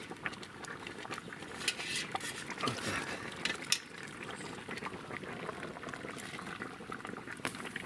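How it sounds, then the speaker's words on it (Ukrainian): Grape juice boils vigorously in a pot, a steady dense bubbling and popping that continues throughout at close range, with no voices. "бо сильно воно кипить"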